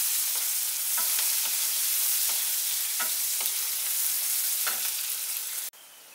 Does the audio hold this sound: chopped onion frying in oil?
yes